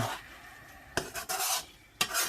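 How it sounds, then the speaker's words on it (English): A spoon stirs and folds food through sauce in a hot pan, scraping the metal in a few close, distinct sweeps over a steady sizzle, with no talking. "And now with another spoon, we're just going to fold all that in"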